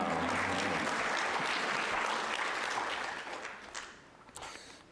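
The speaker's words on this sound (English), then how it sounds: "Was that an applause for Oasis?" An audience claps loudly for a few seconds, then the applause thins out and fades to scattered claps.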